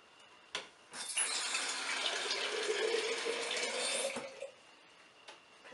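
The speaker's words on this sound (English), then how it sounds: "I'll add some water too" Water is poured or run into a pot of red lentil and roasted squash soup with onions, spices and coconut, a steady splashing rush of about three seconds that then stops.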